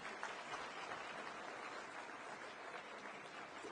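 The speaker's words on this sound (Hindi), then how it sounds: "एक बार सभी के लिए जोरदार तालियां।" An audience at an official stage event with government ministers keeps up a dense, even round of applause that sounds somewhat distant.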